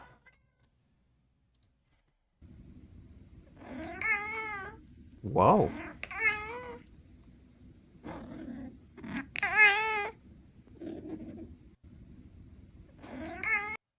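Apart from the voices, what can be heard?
cat meowing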